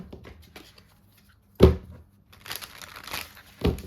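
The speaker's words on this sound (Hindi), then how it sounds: "हम और एक डेक खोलेंगे।" Plastic wrap being torn off a new tarot card deck, with a sharp crinkling burst followed by softer rustling and a second crinkle, close and alone.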